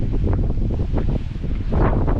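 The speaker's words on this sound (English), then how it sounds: "it's a windy ass day today" Strong gusts buffet the microphone in loud, rough bursts of low roaring noise, with no voices.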